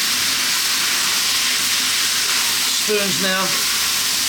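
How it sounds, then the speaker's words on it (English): Cooked chicken chow mein noodles sizzling loudly in a hot pan, a constant close frying hiss that fills the whole clip, with a short bit of speech near the end. "Now we're going to drop in our noodles, our cooked noodles."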